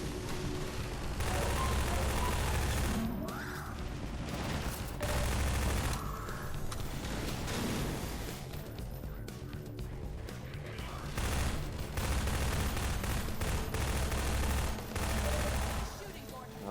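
Rapid submachine gun bursts from Half-Life 2: Episode Two ring out in dense, repeated volleys over constant game noise, with a voice talking at points.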